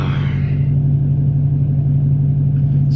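A snow-plow truck's engine idles in a steady, low, droning rumble with a constant hum, close by and unchanging for the whole stretch.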